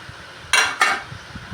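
Crushed onion dropped into a pan already holding crushed garlic and chopped green chillies, two quick loud hissing sizzles close by, then a faint crackle fading underneath.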